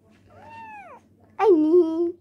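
A pet cat meows twice indoors, a short falling mew followed after a pause by a louder, longer drawn-out meow close by.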